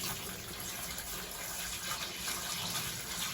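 Water running steadily from a motorhome shower as the pipes are flushed clean, a constant hissing gush with no pauses, close and moderately quiet.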